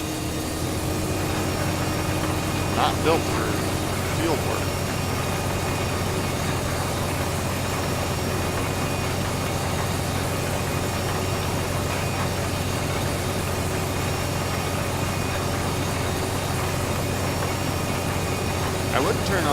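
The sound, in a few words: tractor engine idling in a farming video game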